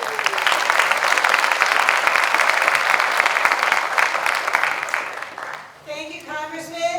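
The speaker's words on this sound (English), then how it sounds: "let's give Mary O'Connor a big round of applause" An indoor audience at a service academy night event gives a steady round of applause that tapers off, followed by a voice beginning to speak.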